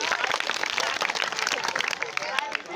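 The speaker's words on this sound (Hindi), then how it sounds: "ताली बजा सकते हैं" Audience applause with dense, steady clapping that fills the whole stretch, loud and close, with some crowd noise mixed in.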